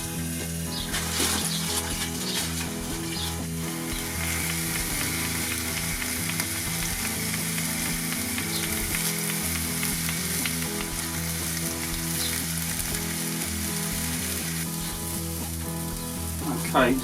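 Burger toppings frying on a kamado grill, a loud, continuous close sizzle with faint scraping and stirring throughout, no talk over it.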